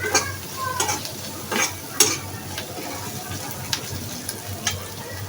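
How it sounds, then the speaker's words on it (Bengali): Whole cardamom, cinnamon and bay leaf stirred into a sizzling masala in a pan for an egg curry, with a steady fry hiss and a few sharp spoon scrapes and clinks against the pan. "দিয়ে একটু নেড়ে চেড়ে আবার মশলাটাকে এলাচ, দারচিনির সঙ্গে মিশিয়ে নিচ্ছি।"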